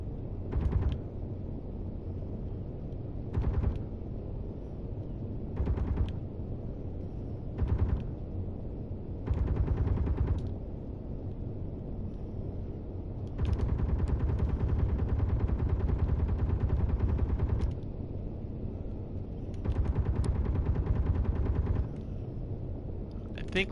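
Automated turret firing in the video game Escape from Pertam, heard as repeated loud bursts of gunfire separated by short pauses, some bursts longer and sustained, over a steady low background rumble.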